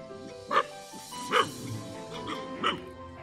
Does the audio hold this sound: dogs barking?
yes